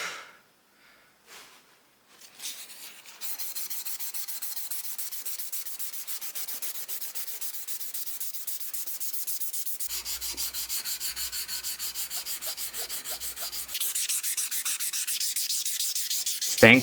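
By hand, sandpaper is worked along a steel bowie knife blade through progressively finer grits, a close, fast, continuous rasping stroke that holds steady after a few opening scrapes and grows slightly louder near the end.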